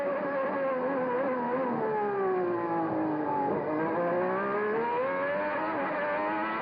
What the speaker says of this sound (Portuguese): Curtindo o som do motor do carro de Nigel Mansell.